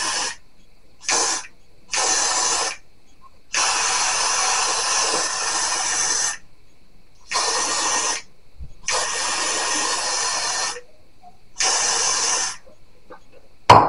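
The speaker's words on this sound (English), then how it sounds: "So we're going to just go ahead and spray this down." A spray bottle mists product onto the lace of a gray/silver wig in a run of separate bursts, some short and some lasting a second or two, close and loud with quiet gaps between them.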